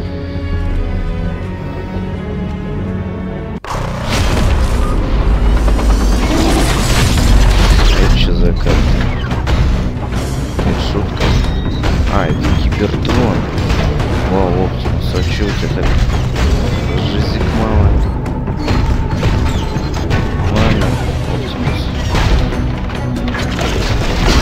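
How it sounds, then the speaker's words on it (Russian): Explosion and impact sounds from Crushers special attacks in the Transformers: Forged to Fight mobile game come as heavy booms and metallic crashes over game music, loud and dense after a brief quieter opening, with narration running over them. "Эти боты — эксперты по части взрывов, чьи спецатаки приводят к крупным"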